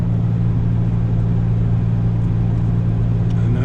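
A quarter-ton small pickup truck drives along, its engine a steady low rumble with constant road noise and no speech.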